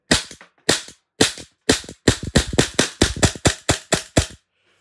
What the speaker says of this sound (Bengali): সো এটা আপনার সিঙ্গেল ফায়ার করতে পারবেন, সেমি অটোমেটিক, বারবার লোড করা লাগবে না